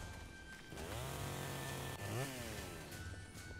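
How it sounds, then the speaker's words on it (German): A chainsaw mounted on a flamethrower weapon in the video game Primal Carnage revs steadily, with the motor pitch rising and falling through two surges, close and loud with no talking. "der hat eine Kettensäge unten dran noch"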